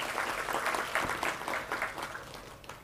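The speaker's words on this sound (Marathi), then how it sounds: "आपण पुन्हा एकदा सरांचं आणि तुमचं दोघांचंही टाळ्या वाजवून स्वागत करूया" Audience at a book launch ceremony clapping to welcome guests, a dense patter of many hands that holds steady and then tapers off.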